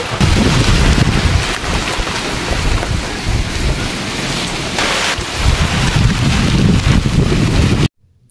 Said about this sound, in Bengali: এখন প্রচণ্ড ঝড় বৃষ্টি হচ্ছে,